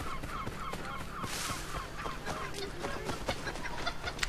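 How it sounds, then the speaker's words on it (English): Chickens in the 18th-century Boston streets of the Assassin's Creed 3 video game cluck and squawk in short, irregular bursts, fairly faint under a busy background of ambient town noise. "Chickens!"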